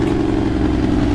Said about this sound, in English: That is a Cummins N14 if you guys are used to seeing me on the 389.